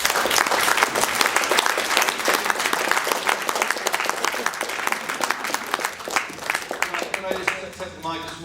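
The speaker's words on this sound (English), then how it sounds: "let's have a big round of applause for the panel" At a rock music festival talk in a Manchester venue, the audience gives the panel loud, dense applause that runs throughout, with voices and some whistling or chatter rising near the end.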